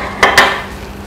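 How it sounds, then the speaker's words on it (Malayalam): A metal bread tin is picked up and handled in a kitchen, giving two quick metallic clanks close together, followed by a faint rubbing noise as it is wiped. No one speaks. "നമുക്കൊരു ബ്രെഡ് ടിൻ എടുക്കണം. ഓക്കെ, അത് എന്നിട്ട് നന്നായിട്ടും തുടയ്ക്കട്ടെ."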